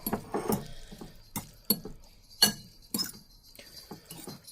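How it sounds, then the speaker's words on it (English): Indomie Mi Goreng fried noodles are stirred together in a bowl, giving a series of close, irregular clinks and taps of utensil against the dish with short pauses between them. "now we're just going to try and stir this all together"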